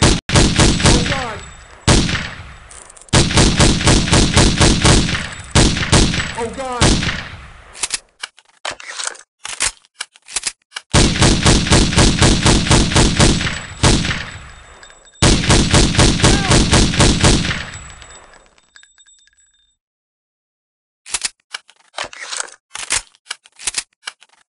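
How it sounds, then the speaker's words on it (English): Rapid automatic rifle fire from a G3A3 in the video game Counter-Strike: Condition Zero, loud sustained bursts with short pauses between them, then a gap and a few scattered single shots near the end. "Look out, they're shooting!"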